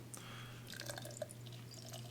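Genesee Dry Hopped Cream Ale beer pours into a glass, a soft steady trickle with faint drips and splashes over a constant low hum, fairly quiet and close.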